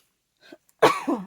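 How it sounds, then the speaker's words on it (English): A single sharp, loud cough bursts out after a brief faint rustle, close to the listener and with no talking around it. "I usually pause to cough, but that one just snuck right up"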